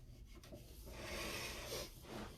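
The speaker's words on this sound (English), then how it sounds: "I'm getting in all these little nooks and crannies and making sure that I'm wiping back all the gross stuff" A cloth rubs across a piece of wooden furniture, wiping it back before chalk painting, in soft, close, continuous scrubbing strokes that swell and fade, with no one talking.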